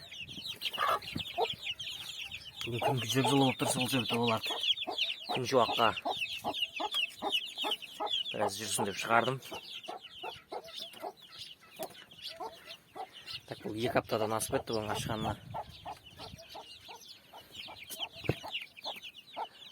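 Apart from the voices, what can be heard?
hen clucking while walking with her chicks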